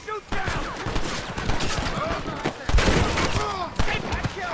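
Video game gunfire in Red Dead Redemption: rapid, dense shots and fusillades crackle throughout, close and loud, while voices shout over the firefight.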